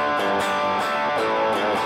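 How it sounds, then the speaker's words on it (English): Thrashy, heavily distorted electric guitar through an Overloud THU amp simulator, dense saturated riffing with rhythmic palm-muted chugs repeating steadily at full loudness, no voices. "and I've got a thrashy."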